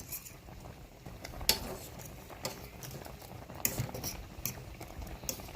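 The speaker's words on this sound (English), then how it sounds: "So you leave this to simmer down." Chicken and dumpling brown stew simmers in a pot with a soft, steady bubbling patter, faint and continuous, broken by a few light clinks of a utensil.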